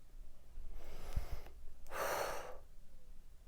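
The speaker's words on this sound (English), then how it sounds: "You want to just take a nice breath" A person draws in one deep, audible breath and then lets out a long, soft exhale, both close and quiet, with no talking.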